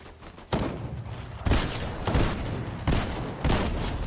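Rapid bursts of submachine gun fire in a video game, several sharp volleys with short gaps between them, loud and close.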